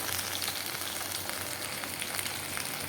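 Ground spice paste sizzles in a pan with fried potato and eggplant, a continuous soft crackle heard alone, close and fairly quiet.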